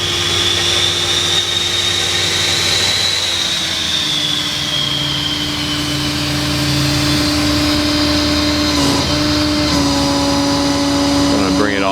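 A truck-mounted air compressor on a 2015 Ford F550 mechanics truck runs with an open hose and no fitting, giving a loud, steady drone and rushing hiss with a sustained tonal hum throughout.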